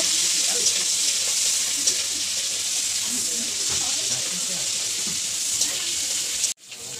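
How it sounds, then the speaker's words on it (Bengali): Crab pieces frying in hot oil, a loud continuous hissing sizzle that carries on steadily before cutting off abruptly near the end, with no voice over it. "কাঁকড়াটাকে ভেজে তুলে নিচ্ছে, লাল লাল করে ভেজে তুলে নিচ্ছে।"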